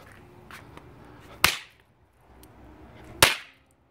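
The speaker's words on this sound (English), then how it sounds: "Aero Fireworks fuseless firecrackers" Two sharp, loud snaps about two seconds apart from Liberty Bell fuseless firecrackers, each a crisp crack with a quick fading tail, popping nearby.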